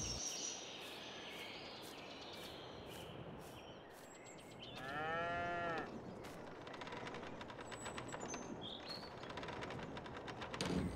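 Cows moo in the Farming Simulator 22 video game on a small six-cow farm, with one clear, drawn-out moo near the middle over a steady ambient wash of farm noise and faint bird calls.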